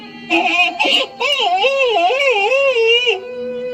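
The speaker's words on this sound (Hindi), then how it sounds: "अरे ये रोने की आवाज किसकी है?" A boy cries while sitting under a tree, a close, wavering sobbing wail with short breaks early on, then one long sustained quavering cry that fades.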